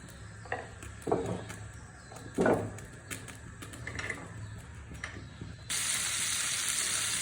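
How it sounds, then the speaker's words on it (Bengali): Shrimp fry in oil in a wok, sizzling steadily with occasional bursts and crackles, then the frying grows louder and more constant near the end. "চিংড়ি মাছগুলো দিয়ে দিলাম কড়াইতে আর এখন হচ্ছে চিংড়ি মাছগুলো ভেজে নিব"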